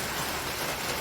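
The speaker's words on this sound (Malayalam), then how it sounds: "അതാണ് മഴ സ്റ്റിൽ കണ്ടിന്യൂയിങ്" Steady rain on a rainy morning outside a home, a dense continuous hiss that stays even throughout, heard alone with no voices.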